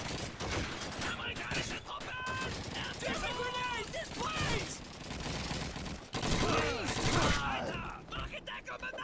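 Rapid gunfire and bursts from Call of Duty 2 mixed with in-game shouting and voices, loud and dense, with brief gaps between bursts across the whole stretch.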